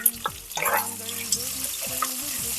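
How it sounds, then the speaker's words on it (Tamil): Chopped onions, added after slit green chillies, frying in a pan for sambar: a soft sizzle with scraping stirring strokes, near and moderately loud, over a low background hum. "கட் பண்ணி வச்சிருக்கிற வெங்காயத்தை இதுல சேர்த்துக்கலாம்"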